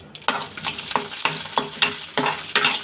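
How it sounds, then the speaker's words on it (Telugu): Ingredients for budamkaya chutney fry in a spoonful of hot oil in a pan, a crackling sizzle broken by repeated stirring scrapes at a steady rhythm, close and clear with no voices. "నేను ఒక ఆయిల్లో ఒక 2 మినిట్స్ ఇలా వేపుతాను"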